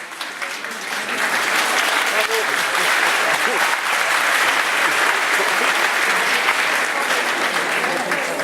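Audience applause at a public lecture in Montpellier, France, a loud, sustained wash of many people clapping that builds within the first second and holds steady with faint crowd murmur.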